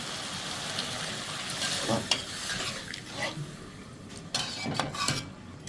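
Vegetable stems sautéed in a pan give a soft continuous sizzle with occasional scraping and clinks of a utensil against cookware, close-up and moderately quiet, no speech.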